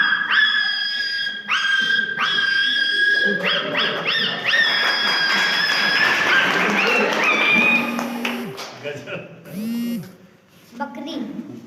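A young child imitates a puppy, voicing a rapid series of high yips, whines and whimpers, close and loud, ending in softer short squeaks with brief pauses.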